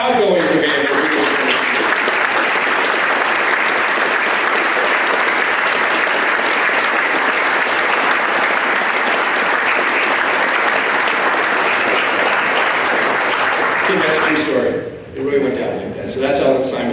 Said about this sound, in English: Ladies and gentlemen, will you please give me a round of applause for our outgoing commander.